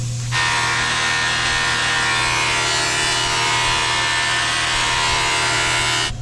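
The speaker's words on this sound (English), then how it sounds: "I'm gonna make a test pass with the grinder and see what happens" A grinder working over the metal casing of a WWII anti-tank shell, a continuous close, high whirring grind held steadily for several seconds before cutting off.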